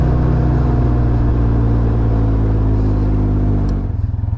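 A 2022 Can-Am Ryker three-wheeled motorcycle rolls along with a loud, steady engine rumble close by, easing off near the end into a lower, pulsing idle-like putter.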